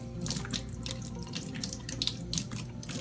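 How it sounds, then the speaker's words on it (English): Tap water runs steadily into a sink while a plastic lid is rinsed, with a continuous close splashing hiss and light spattering throughout. "Now rinse off the lid"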